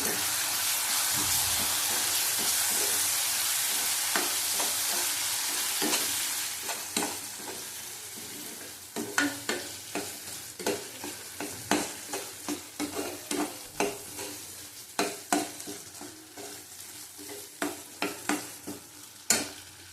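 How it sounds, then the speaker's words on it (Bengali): Prawn curry with milk, raisins and cashew paste sautés in a pan: a steady sizzle at first, then repeated scraping stirs in a regular rhythm over a softer bubbling hiss, close up with no talk. "আবার ভালো করে কষিয়ে নেব।"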